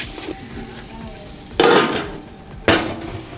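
Onions sautéing in ghee in a pan while a biryani is being made, with quiet background clatter and two short bursts of stirring or pan scraping standing out loudly midway and near the end.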